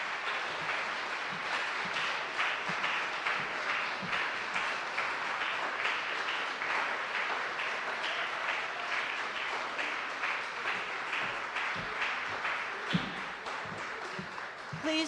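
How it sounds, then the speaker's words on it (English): Sustained audience applause fills a church hall after a speech at a returning citizens roundtable, dense and steady clapping throughout with a few louder individual claps near the end. "Please join me in giving the Attorney General another round of applause"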